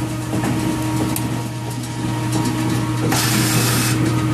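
Bowling alley pinsetter machine running with a steady mechanical hum and rhythmic clattering, then a louder clunking sweep near the end; close and continuous, with no talk.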